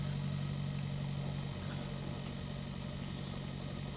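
A slow tractor engine idles and chugs steadily in the farming game Pure Farming 2018, a low continuous drone with no talk over it.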